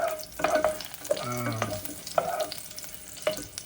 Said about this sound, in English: fry the onion a little bit before you throw in the chorizo.